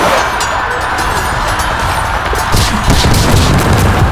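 A heavy explosion-like boom in the game Hearthstone, with rumbling, crackling blasts, loud and dense, continuing through the clip.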